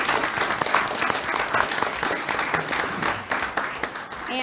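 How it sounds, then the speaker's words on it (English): A crowd of attendees at a town council meeting applauds for everyone who participated, dense sustained clapping filling the room evenly from start to finish with no pause. "a round of applause for everyone who participated"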